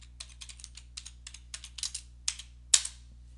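Keys clack on a computer keyboard as a short command is typed, a quick burst of close clicks ending in one sharper, louder key press, with a low steady hum beneath and no talk.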